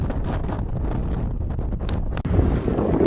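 Strong wind buffets the microphone on a sailboat under sail with the motor off, a steady dense roar with rustling gusts and a brief dip near the end.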